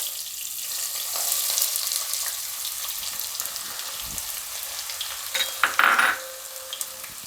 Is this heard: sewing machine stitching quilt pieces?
no